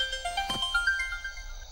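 A mobile phone ringtone sounds in a Hindi-dubbed South Indian romantic thriller film, a short melodic tone sequence playing clearly for under two seconds.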